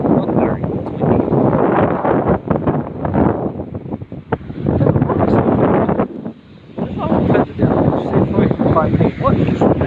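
Strong wind buffets the microphone at a rainy beach, a loud continuous roar with gusts that briefly drop away, surf faintly underneath.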